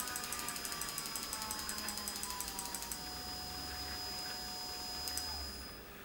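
Small electric motor driven by a Gertbot controller board, a fast, even ticking whir with a rapid mechanical clicking rhythm, then a steady hum with a faint descending whine, quiet and close.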